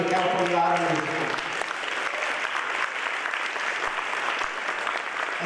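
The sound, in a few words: audience applause at a meeting in the California Auto Museum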